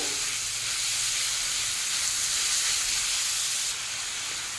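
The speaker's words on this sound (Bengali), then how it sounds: "এখন দেবো ক্যাপসিকাম কুচি, এটাকেও 2-4 বার একটু নাড়িয়ে নেব" Chopped capsicum frying with chicken and crushed garlic paste in a pan, giving a steady, close hiss and sizzle that runs throughout without pause or voices.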